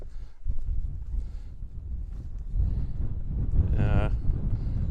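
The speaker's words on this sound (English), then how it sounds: "it's getting a bit windy up here" Gusty wind buffets the microphone in low, rumbling blasts on the Quantock Hills, with a faint voice and a brief higher-pitched call partway through.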